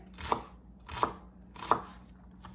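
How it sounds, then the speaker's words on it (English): A knife dices an onion on a cutting board with three evenly spaced crisp chops and the start of a fourth, each a sharp knock against the board, close and fairly quiet with no voice. "Then I'm going to put my knife through this way with a firm grip on the top."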